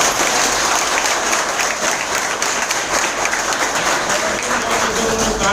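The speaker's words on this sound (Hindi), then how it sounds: "जोरदार बेशुमार तालियां" Dense, sustained applause fills a meeting hall at a hotel business gathering, many hands clapping at a loud, even level throughout with no speech on top.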